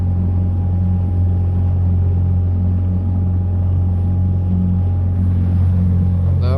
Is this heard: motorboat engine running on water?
yes